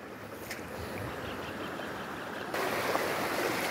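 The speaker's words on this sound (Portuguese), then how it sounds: "A água vem com muita força." Water rushing strongly along a small irrigation ditch, a steady broadband roar that grows louder partway through, with no voices.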